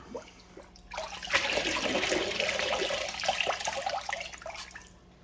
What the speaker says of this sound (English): I really want to squeeze and knead this sponge to get all the nastiness